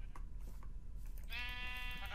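Sheep in the Minecraft video game give a bleat, a clear harmonic call that starts halfway through and holds steady to the end over a busy low game-noise background.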